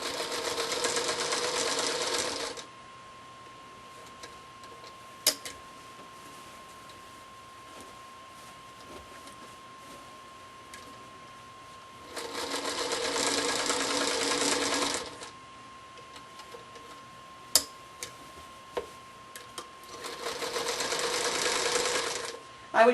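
A sewing machine stitches around the edge of a quilt in three separate bursts of rapid mechanical whirring, with quiet pauses and a few clicks between runs as the needle stops down to pivot.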